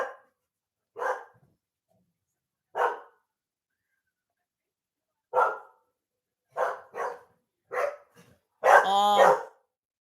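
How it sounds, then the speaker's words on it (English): Chico, a young, excitable dog, lets out a series of sharp, separate barks at uneven intervals, ending in a longer, louder yelping burst, with near silence between them. "That's my new dog, Chico. He's wound up."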